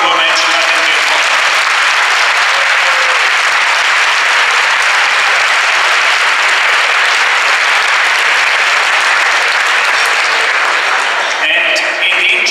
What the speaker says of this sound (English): give all an applause to the oralists which would have deserved an honorable mention but didn't get one